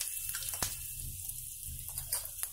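Cumin seeds and a pinch of asafoetida sizzle in hot oil over a low flame, a quiet crackling fizz with small pops scattered throughout.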